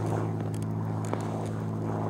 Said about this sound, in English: this plane going overhead. We're actually near an airport.